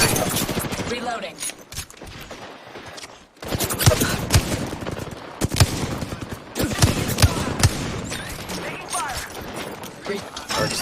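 Rapid bursts of automatic gunfire in the shooter game Apex Legends, with sharp repeated cracks and mechanical clatter, briefly pausing before resuming amid a player's talk.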